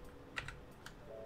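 A few quiet, quick keystrokes tap on a computer keyboard, close and faint, in a brief burst with pauses between presses.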